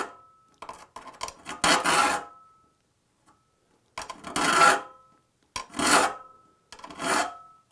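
A hand file rasps across the raker of a crosscut saw in four or five separate strokes, each a loud, gritty scrape followed by a short pause in an otherwise quiet room.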